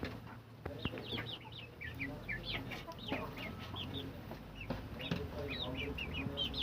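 Several chickens cluck and chirp nearby in a busy, overlapping chorus, with faint rustling and low background noise.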